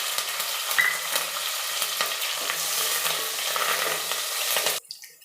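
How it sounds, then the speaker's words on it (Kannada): Onion and curry leaves sizzle steadily in hot oil for a tempering, a dense frying hiss with stirring scrapes running through it, cutting off abruptly just before the end. "ಈಗ ಒಗ್ಗರಣೆ ಚೆನ್ನಾಗಿ ಫ್ರೈ ಆಗಿದೆ."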